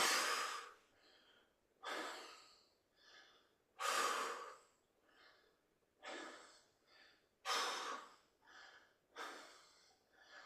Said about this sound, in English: Breathe out on the way up, recover on the way down.